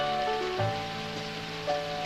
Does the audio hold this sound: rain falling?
yes